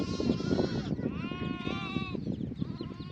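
Sheep and lambs bleat loudly and close by, several overlapping wavering calls in quick succession over a busy outdoor background.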